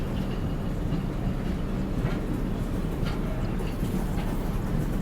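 Mithila Express passenger train hauled by a WAP 5 electric locomotive on the Raxaul to Howrah run, heard from inside a coach as a continuous low rumble with faint rhythmic rattling and wheel clatter.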